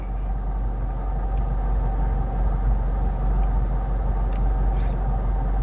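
A car idles with the AC off, heard from inside the cabin as a steady low rumble with a soft whir running underneath, even and unbroken, with no talking.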